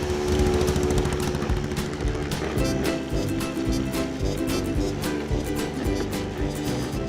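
A lawnmower engine runs steadily and close by, giving off a rough, sputtering mechanical drone with a rapid pulsing rhythm. People talk faintly under the noise.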